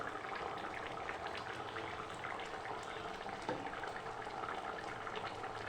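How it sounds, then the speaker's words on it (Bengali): Aloo dum, a potato curry, bubbling in a pot: a steady, faint hiss of simmering liquid with fine crackling, continuous and even, with no voices. "ভালো করে ফুটিয়ে নেব"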